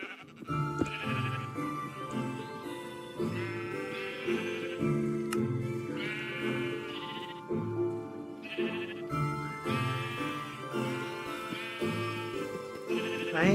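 Repeated bleating of sheep in Minecraft, several calls in bursts, over a steady layer of music and game ambience.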